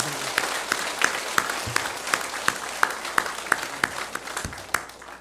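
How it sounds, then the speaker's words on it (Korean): Church congregation applauding to welcome first-time visitors at a Sunday worship service, steady moderate clapping filling the hall with sharper individual claps standing out. "크게 소리 한번 격려 박수하겠습니다"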